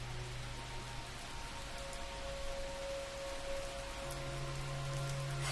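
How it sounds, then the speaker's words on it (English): Steady rain falling on a surface, a dense even patter of drops that continues throughout with no talk, accompanied by faint low steady hums. "Feel all the little raindrops falling from this giant body of this cool mist."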